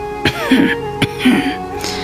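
A voice imitates throat clearing twice, two harsh guttural rasps with short sharp bursts between, close and loud.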